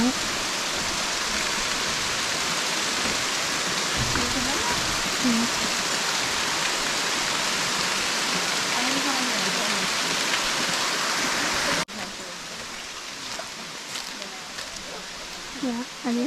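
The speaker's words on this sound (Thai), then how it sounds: "น้ำที่ไหลลงมาจะเป็นม่านน้ำไหลผ่านตรงป่าไม้" Constant rushing roar of Erawan Waterfall in Kanchanaburi falling as a curtain through forest, loud and close, with a person talking over it; the roar drops slightly near the end.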